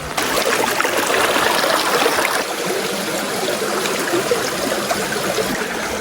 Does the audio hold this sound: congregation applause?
no